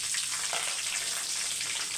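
Curry leaves frying in hot oil for a tempering, a dense, steady hiss and crackle of sizzling heard up close and alone.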